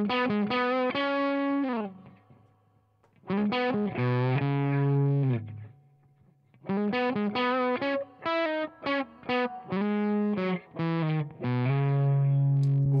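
A virtual Fender-style amp, Twin or Deluxe type, cranked to full volume, plays distorted guitar chords and riffs in loud bursts with brief pauses, a low transformer hum and buzz sitting underneath.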